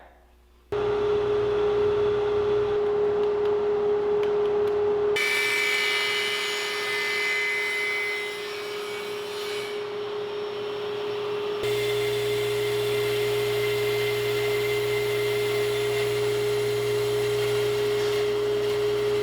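A power tool whines steadily and loudly while cutting a notch in a wooden desk support piece for a cantilever-style desk build, a continuous tonal drone that shifts pitch partway through, with no talk.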